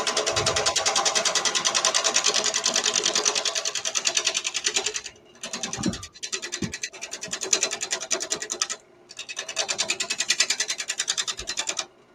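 A wood lathe runs with a close, rapid, rhythmic whirring buzz, dropping out briefly twice with a few knocks before spinning back up.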